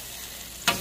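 Pepper steak beef sizzles in sauce in a hot pan, a steady low hiss that swells abruptly near the end as the pieces are tossed.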